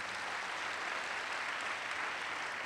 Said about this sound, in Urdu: آئے یسوع کے جلال کے لیے زوردار تالی.